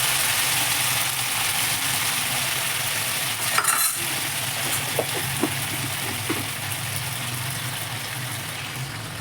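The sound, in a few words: mango pieces frying in oil for pickle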